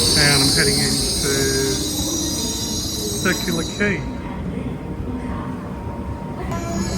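Sydney suburban train running toward Circular Quay: a steady rolling rumble with repeated shrill wheel squeals on curves, while a voice briefly speaks over it.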